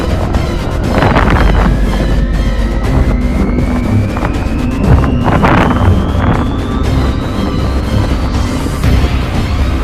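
Strong cyclone wind buffets a passenger plane during a crosswind landing, loud continuous roaring rumble with engine whine rising steadily in pitch and gusty surges throughout.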